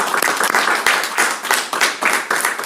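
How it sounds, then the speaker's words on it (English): A forum audience applauds the candidates of a Kansas State Senate candidate forum, a steady run of dense clapping that swells in repeated waves and lasts throughout. "I hope our audience members will give our candidates a round of applause."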